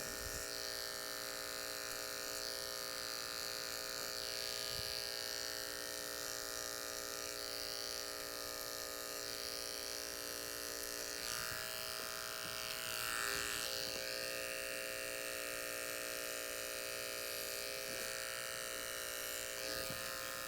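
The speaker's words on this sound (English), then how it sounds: "I want to move the clipper slowly" An electric hair clipper runs continuously at a steady, close buzz while cutting hair for a medium skin fade, with faint shifts in tone as it moves through the hair; no talking.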